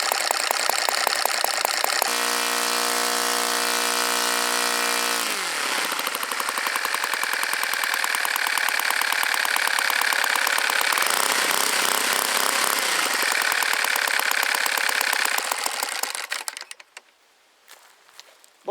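NGH 38cc four-stroke petrol model engine with CDI ignition spinning an 18x8 propeller, running loud and steady at close range, with its pitch shifting as the revs change, before cutting out near the end.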